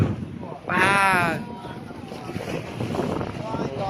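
Strong wind buffets the microphone while waves splash against a moving boat; a brief voice is heard early on.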